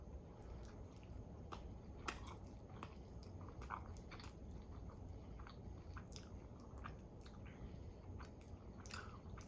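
Someone chewing a bite of a new Taco Bell item with jalapenos, tortilla strips and three-cheese blend: soft, wet, close mouth sounds with scattered small crunchy clicks over a steady low background hiss, no talking.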